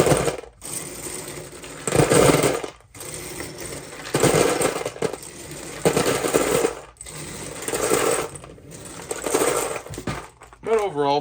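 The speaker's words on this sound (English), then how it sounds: "the sound of Lego getting dumped into a box is nice" Loose Lego pieces are poured into a box in several bursts, each one a dense clattering rattle of small plastic parts, separated by brief pauses, close and fairly loud.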